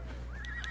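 A horse in a PS4 video game gives a single short, high whinny, sharp and clear over a steady low background hum.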